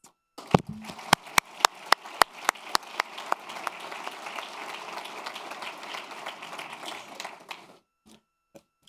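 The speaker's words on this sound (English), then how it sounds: "Please help me welcome and give a round of applause from Riverside High School teacher, Mr. Stev" A small crowd applauds steadily for several seconds at a school district Teacher of the Year announcement, with a few sharp, loud claps standing out near the start before it fades out.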